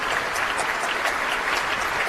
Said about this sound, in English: Applause there for Philippe Aish, who is the leader of the Orchestre de Paris this afternoon